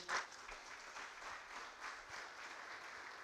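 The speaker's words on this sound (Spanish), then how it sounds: "Denle un aplauso de alabanza al Señor." Soft, distant applause of praise from a church congregation, a steady patter of clapping that stays faint throughout with little else heard.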